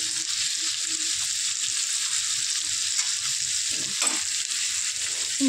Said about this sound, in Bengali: আলুটাও ভালো করে ভাজছি।